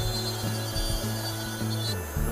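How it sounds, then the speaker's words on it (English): A gypsum dental die is trimmed by hand with steady scraping and rubbing strokes, fairly close and moderately quiet, repeating in an even rhythm with no talk. "I've just about completed that aspect of die trimming"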